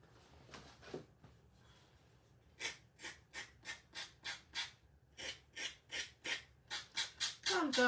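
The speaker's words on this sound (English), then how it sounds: "Sometimes you just need to get the sander out." Sanding along the edges of fabric Valentine hearts for a frayed shabby-chic finish, heard as about a dozen quick, evenly paced rasping strokes that grow steadily louder, with no talk.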